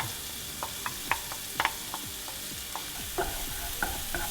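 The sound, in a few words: shallots sweating in butter in a pan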